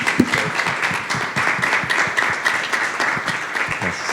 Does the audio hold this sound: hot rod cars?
no